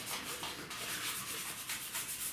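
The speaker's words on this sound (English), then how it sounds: "We're going with the do-it-yourself at home head sanding method, starting with" Hand sanding a 2006 Subaru Outback SOHC cylinder head with 180 grit sandpaper, a steady close rasping rub with repeated back-and-forth strokes and no talking.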